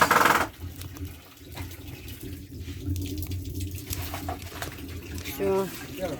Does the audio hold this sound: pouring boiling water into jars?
yes